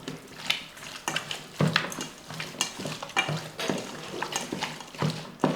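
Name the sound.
mixing chicken with salt and masala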